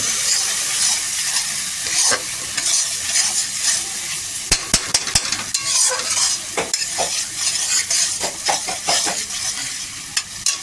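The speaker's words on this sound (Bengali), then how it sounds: "টমেটোর মধ্যে এবার এটা দেবো, দিয়ে ভালো করে নাড়াচাড়া করবো।" Tomatoes frying in a pan for hilsa fish curry are stirred with a spoon, bringing loud continuous sizzling and hiss punctuated by sharp scraping clicks against the pan, close up with no talking.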